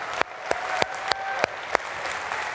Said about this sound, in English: Give them one round of applause.